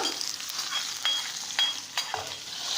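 Steady sizzling of onions frying in a pan, with occasional stirring scrapes and clinks over a continuous crackling hiss, no talking.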